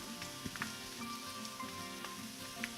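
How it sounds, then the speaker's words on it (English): Soft, steady sizzling of green beans deep frying in hot oil, with faint crackles and pops scattered over a low, continuous hiss. "When you're frying these, you want to make sure that you're not overcrowding"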